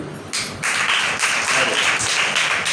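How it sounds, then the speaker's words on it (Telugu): An audience claps together in a sustained, dense burst like heavy rain, swelling in after a brief quieter moment and holding steady loud throughout without speech. "చప్పట్లు పెద్ద వర్షం వచ్చినట్టు కొట్టాలి"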